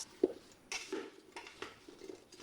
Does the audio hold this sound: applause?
no